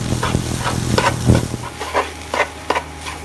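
Shredded cabbage sautéing for borscht, stirred in a hot pan with steady sizzling and repeated scraping strokes of a spoon against the bottom, close and fairly loud, with no voices.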